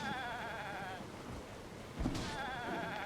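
Goats bleating in Zelda: Tears of the Kingdom, a couple of wavering, quavering calls repeated close by, the first lasting about a second and another returning after a thump, set over a steady game ambience.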